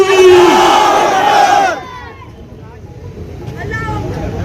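A large crowd at an AIMIM political rally roars a loud, drawn-out unison chant answering a Takbir call, then the cheer drops to a quieter murmur of voices and shouts.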